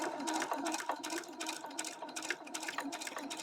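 A sewing machine stitches a birthday crown in a quick, even patter of needle strokes, fairly faint and steady from start to finish.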